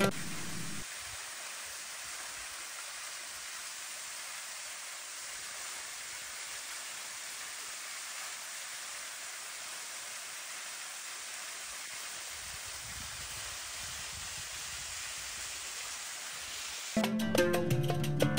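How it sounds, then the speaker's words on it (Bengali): A waterfall in the hills of Bandarban, a steady broadband rush of falling water that is loud, close and unbroken for most of the time, with a brief change in the sound at the very end. "ঝর্ণার আওয়াজটা একটু আপনাদেরকে শোনাই"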